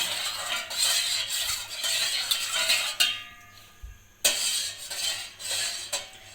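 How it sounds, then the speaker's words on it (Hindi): A spoon stirring milk continuously in a pot over high heat for gulab jamun, with close metallic scraping and clinking that pauses briefly midway before resuming. "दूध को मुसलसल हिलाते जाएं और तेज़ हीट रखनी है आपको इसमें।"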